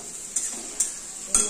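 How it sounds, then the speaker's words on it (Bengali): Bitter gourd frying in a pan with onion and chilli gives a soft, steady sizzle, broken by three short scraping stirs of a utensil against the pan, close and fairly quiet. "দিয়ে আবার ভাজা ভাজা করবো।"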